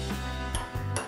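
A spoon stirs lemon juice into milk, making a few light clinks and taps against the bowl, close and brief, under a steady tonal background with no talking.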